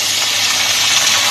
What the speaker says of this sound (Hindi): अब ये जो बीफ है ये सारा मैं इसमें डाल दूँगी